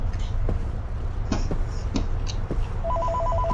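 An electronic telephone ring in Fortnite beeps in a steady pulsing pattern over a loud, busy backdrop of game music and effects.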